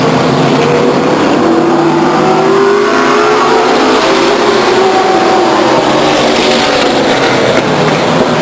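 Loud, dense roar of race cars lapping Stockton 99 Speedway, engines droning and revving together with pitch sweeping up and down as cars pass, filling the whole span without a break.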